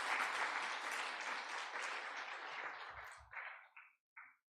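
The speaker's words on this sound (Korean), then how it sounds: "박수로 마음껏 격려해 주시기 바랍니다." Church congregation applauding the students at a New Year thanksgiving service, a dense burst of clapping that fades out into a few scattered final claps.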